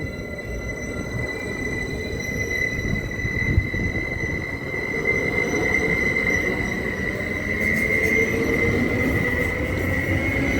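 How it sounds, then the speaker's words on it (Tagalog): A passenger train from San Francisco rumbles past nearby, its steady roar carrying a sustained high wheel squeal and faint metallic clatter. "Ito po yung train na yan ay galing po sa San Francisco."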